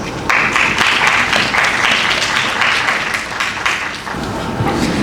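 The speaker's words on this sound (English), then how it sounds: "Please give them a huge round of applause." At a mushroom summit session, an audience breaks into loud, sustained applause for presenters joining the stage, a thick continuous clatter of many hands lasting about five seconds.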